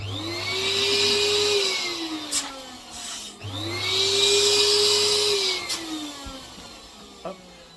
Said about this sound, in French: Donc là, on va gonfler en 9 pouces.